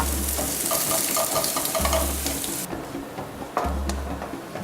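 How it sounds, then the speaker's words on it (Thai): Onions sizzle in a hot pan while being stirred, a bright steady frying hiss with scraping movements, close up, broken by a low intermittent hum and a brief drop in the sizzle, without talk. "เราใส่หอมใหญ่ลงไป"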